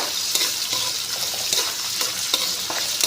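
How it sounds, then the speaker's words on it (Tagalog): Pink salmon sautés in a hot pan as the base of a sinigang, a loud, continuous close sizzle with brief stirring clatters and no voices. "Igisa muna natin yung isda bago natin ilagay yun."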